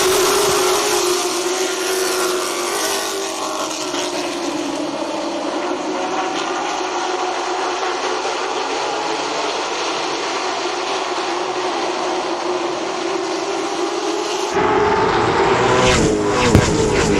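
Late model stock race cars roar together at a restart in a 50-lap feature at Langley Speedway, a loud, continuous, close engine drone that swells and shifts near the end as the pack passes.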